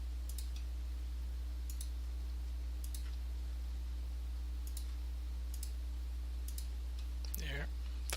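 Computer mouse clicks while saving quiz answers, about a dozen sharp, isolated taps at irregular intervals over a steady low electrical hum, with a brief voice sound near the end.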